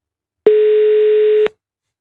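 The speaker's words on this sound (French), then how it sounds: "Deuxième sonnerie, Aurélien Véron." One telephone ring tone sounds during a live French radio call, a steady electronic tone lasting about a second with abrupt start and stop, followed by silence.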